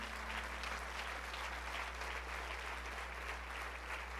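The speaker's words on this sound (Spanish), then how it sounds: "dele un fuerte aplauso al Señor" A congregation at the Congreso Libertad 2014 church congress applauds the Lord with dense, steady clapping that fills the hall at an even level throughout, with no voices on top.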